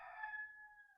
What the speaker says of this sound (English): I don't know if you can hear the rooster outside.